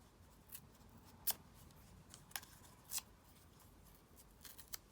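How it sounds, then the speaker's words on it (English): Paper is torn into pieces for a tea-themed junk journal collage: several short, sharp rips close by, spaced apart with quiet handling noise between them. "And let's just do some ripping."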